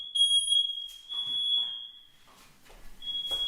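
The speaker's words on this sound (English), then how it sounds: "Smoke alarm because of the hookah." A smoke detector set off by hookah smoke shrills in a piercing high electronic tone that sounds, breaks off while people move and murmur, then resumes loudly near the end.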